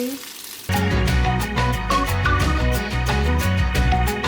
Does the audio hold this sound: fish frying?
yes